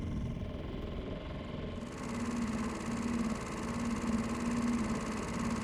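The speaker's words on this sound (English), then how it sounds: "I'll kill the outboard and we'll use momentum and the sculling oar for the remaining bit." A boat's outboard motor runs at a steady idle, a low continuous drone with a faint humming pitch that rises a little partway through, heard alone with no voices.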